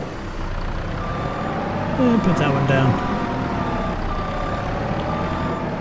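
A truck in the farming game Farming Simulator 25 reverses under a low engine rumble while its repeated backup beeps sound; someone speaks briefly over it.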